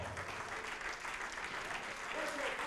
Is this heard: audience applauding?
yes